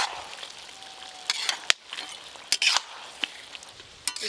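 Chili powder, turmeric and other spice pastes for a chicken curry frying in a wok, with a soft sizzle under sharp scraping and clanking stir strokes, and no voices.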